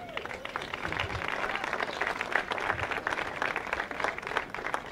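Steady applause from a crowd, dense clapping sustained throughout at an even level.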